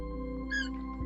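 Cats that have just been fed meow over a steady low household hum. A single clear meow rises and falls, then a fainter sound follows.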